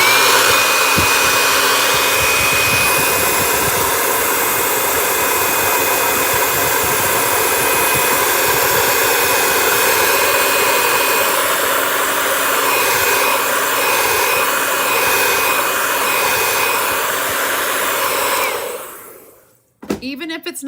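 A hair dryer blows steadily and loudly up close for about nineteen seconds to dry a freshly applied surface, then switches off abruptly near the end.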